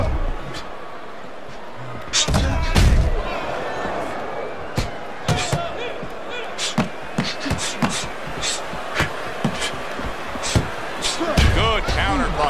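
Boxing counter punches land in a fight between Jared Anderson and Derek Chisora, sharp smacks and slaps scattered through roughly twelve seconds, some louder bursts, over a steady crowd roar with commentators talking throughout.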